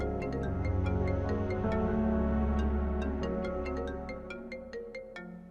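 A phone ringtone plays loudly, a repeating electronic melody with bright chiming notes, continuous for several seconds before fading slightly at the end.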